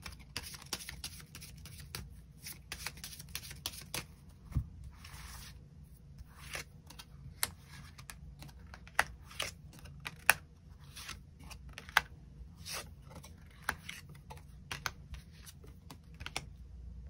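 Tarot cards being shuffled and drawn: a steady run of soft papery flicks, riffles and light taps at close range, quiet and continuous with no talking.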